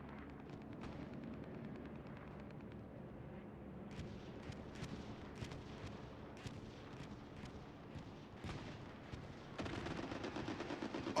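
Strafing gunfire during an Apex Legends esports match, rapid sharp bursts crackling over a steady game ambience, with a denser, louder volley near the end; distant-sounding and fairly quiet.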